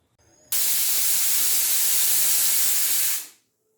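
A pressure cooker holding mutton curry vents steam in a single loud, steady hiss lasting about three seconds that cuts off abruptly.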